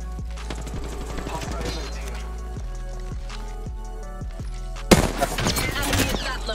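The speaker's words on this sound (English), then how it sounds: "Enemy at that location. I am taking fire." Gunfire in an Android shooting video game, a steady series of sharp, evenly spaced shots followed by a loud, dense burst of firing near the end.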